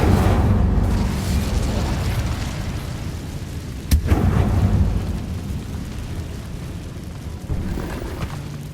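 Fire spells Confringo and Incendio blasting in Hogwarts Legacy, a dense rumbling roar of explosions with a sharp burst near the middle and another swell later, loud and continuous throughout.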